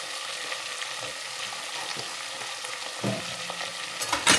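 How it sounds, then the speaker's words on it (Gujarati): Asafoetida and curry leaves sizzle in hot oil with a steady close crackle, broken by a few stirring scrapes near the end. "અને હવે આપણે નાખી દઈશું થોડી હિંગ આમાં"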